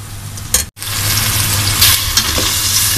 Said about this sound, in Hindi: ये थोड़ा सा मैंने इसे फ्राई करना है